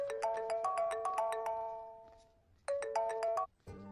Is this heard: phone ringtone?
yes